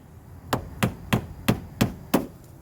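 Plastic retaining clips are pressed and clamped into a 2002-2006 Nissan Altima bumper, six sharp, evenly spaced knocks in quick succession, close and distinct.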